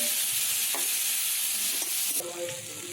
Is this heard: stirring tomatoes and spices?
yes